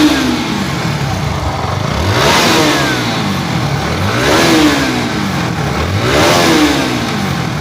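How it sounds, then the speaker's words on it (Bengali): Motorcycle engine revving in repeated rising and falling waves, three or four throttle blips over a steady rumbling idle, loud and close with no talk. "তো বাইকটার সাউন্ড কোয়ালিটি"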